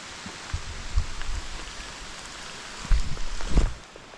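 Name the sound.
rain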